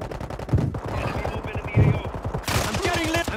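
Rapid bursts of Call of Duty gunfire crackle in quick repeated volleys, loud and close, with player voices talking over the shooting throughout.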